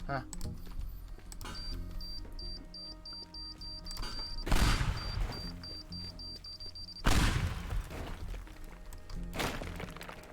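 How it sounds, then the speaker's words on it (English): Bombs blow out building supports in the destruction game Teardown, two loud crashing blasts a few seconds apart over light clicking, with a voice talking throughout. "I'll just bomb out the supports"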